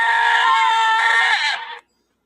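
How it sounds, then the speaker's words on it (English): Screaming goat toy letting out one long, loud, harsh bleating scream that holds for over a second and a half before cutting off abruptly into silence. "That's the actual screaming goat."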